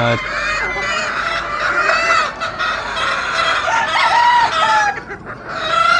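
Chickens and pullets in breeding pens, many birds clucking and crowing close by at once, with goose-like honks mixed into a dense, continuous farmyard chorus.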